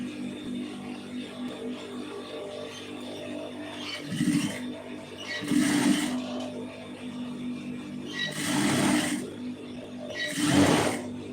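A sewing machine stitches a blouse in short bursts of rapid whirring, four runs of a second or so separated by quieter pauses, heard close over a low steady hum.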